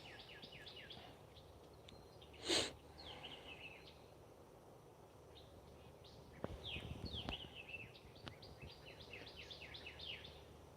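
Small birds singing outdoors in short repeated chirping phrases, faint and somewhat distant, with a brief louder thump partway through.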